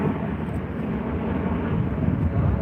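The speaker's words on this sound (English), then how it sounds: "There's our Qantas A330-300 off to Tokyo Haneda later tonight." Qantas Airbus A330-300 airliner bound for Tokyo Haneda, heard as a steady, broad low rumble of engine noise that holds evenly throughout without any clear pass-by peak.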